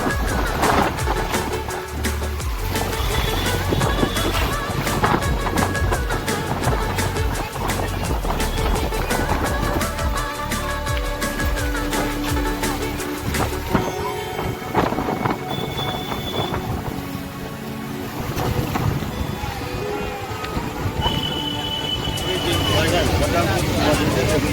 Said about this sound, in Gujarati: પવન ફૂલ આવે છે. માણસો ચાલી પણ નહીં શકતા, બધા પાછા ખેંચાઈ જઈએ છીએ એવો પવન આવે છે.